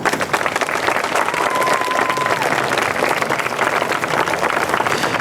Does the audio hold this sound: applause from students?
yes